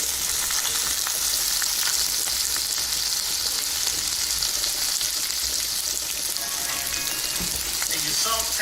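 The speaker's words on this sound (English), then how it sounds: "And you saute your onions." Onions sautéing in a pan give a loud, steady sizzle and crackle that runs unbroken throughout, with occasional faint scraping of stirring.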